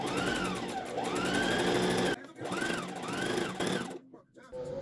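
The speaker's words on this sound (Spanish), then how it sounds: "Luego pasamos una costura recta a un centímetro del borde y remallamos." A sewing machine stitches a straight seam along a shirt sleeve, its motor whirring in close, steady bursts that rise and fall in pitch, with a brief pause in between.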